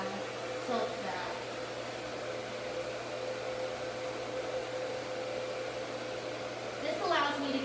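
Hair dryer blowing steadily while hair is styled, a continuous close whooshing airflow throughout with faint voice fragments briefly over it.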